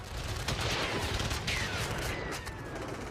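Bursts of rapid gunfire from the war in Ukraine crackle in quick succession, dense and continuous, with booming reports echoing through the mix.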